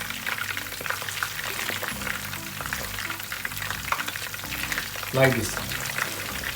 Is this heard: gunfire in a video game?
no